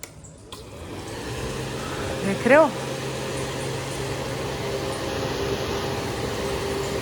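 A window air cooler switches on and settles into a steady fan whir that carries on to the end, with a voice speaking briefly over it near the start.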